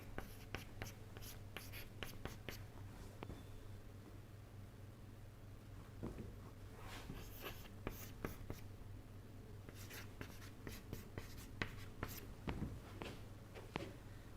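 Chalk or pen strokes as equations are written out during a fluid mechanics lecture on pressure-driven flow, a quick series of short scratchy taps and scrapes in irregular bursts over a low steady hum, with no speech.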